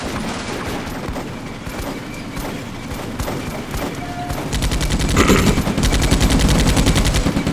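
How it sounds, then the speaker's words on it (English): Long sustained machine gun bursts from a Sherman tank in the WWII game Combat Mission: Afrika Corps, rapid and loud, with scattered gunfire before the firing swells into a continuous rattle. "I like to see that machine gun fire coming out of the beautiful Sherman there"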